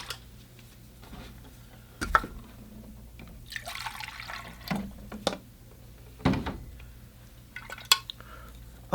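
Fresh water is poured and sloshed in a container for watercolor painting, with scattered splashes, clinks of a jar or cup, and drips at close range, with no talking.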